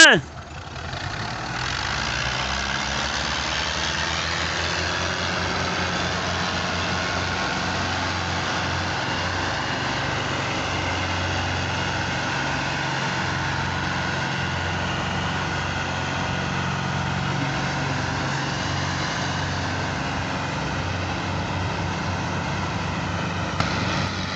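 A heavy diesel tractor engine drones steadily at close range, a low continuous rumble that holds for the whole stretch without pause.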